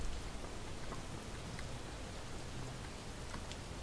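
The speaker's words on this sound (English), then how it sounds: "because it thinks it's raining, my torches are going out faster" Steady rain falling in the video game Relics of Hyrule, a continuous even hiss of drops with no break and no voices.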